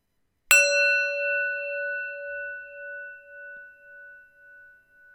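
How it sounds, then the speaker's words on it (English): A meditation bell is struck once and rings out clearly, its bright metallic tone with steady overtones decaying slowly and pulsing gently for about five seconds with no talking. "Let's hear the bell"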